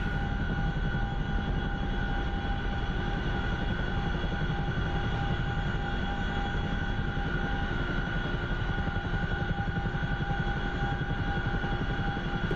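A helicopter lifts off for takeoff in the DCS flight simulator game, its engine and rotor giving a steady, loud drone with sustained whining tones that hold unchanged throughout, with no voices.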